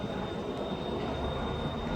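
A train passes on the West Coast Main Line at Stockport, a loud, continuous rumble of wheels on track with a thin high squeal running steadily throughout.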